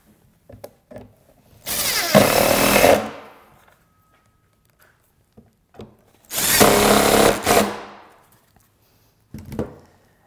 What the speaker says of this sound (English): I'm going to fasten it down with the remaining two.